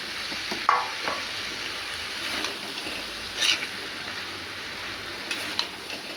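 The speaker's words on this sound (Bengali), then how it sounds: "একটু নাড়তে হবে সয়াবিন সব মিক্স করে নাড়তে হবে ভালো করে নেড়ে" Soybean chunks and potatoes stirred in a frying pan, a steady low sizzle under scattered scrapes and clinks of the spoon, close and fairly quiet.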